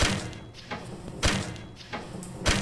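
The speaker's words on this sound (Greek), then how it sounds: "Σαν να σπάει το κόκαλο, σαν να το ραγίζει έτσι ξανά και ξανά." Repeated bone-cracking crunches from the horror game Close To The Sun, four sharp thudding snaps spaced roughly every second and a quarter, each with a dull low impact and a bright crackling edge, over a quiet ambient background.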